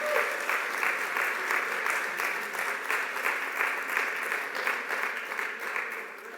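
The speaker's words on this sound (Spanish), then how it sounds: "Aplauda a nuestro Señor." Congregation clapping together during a church sermon, a steady, rhythmic patter of many hands kept up for several seconds, fairly close and fading slightly at the end.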